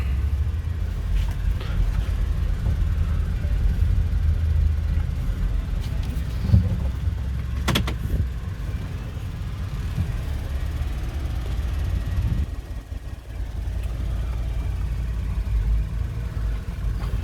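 A 2010 Chrysler Town & Country minivan with a 3.8L V6 and 55k miles drives along, heard from inside the cabin as a steady low engine and road rumble with a few faint bumps.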